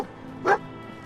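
A single short dog bark in Fallout 4, clear and mid-distance, standing out briefly over a quiet game background hum.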